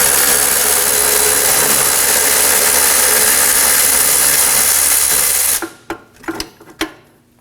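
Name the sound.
bolt being loosened and removed from rear strut assembly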